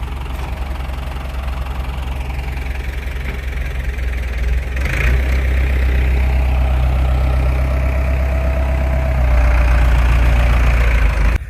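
A quad bike idles on an Irish sheep farm, its engine giving a steady, close, loud low rumble with a faint knocking pulse that swells slightly toward the end; nobody speaks.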